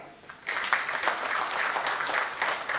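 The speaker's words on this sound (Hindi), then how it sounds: "लेकिन इनके लिए तालियां" Steady applause from an audience at an investor report launch event, a dense burst of clapping that swells quickly and holds at a lively level, with no talking over it.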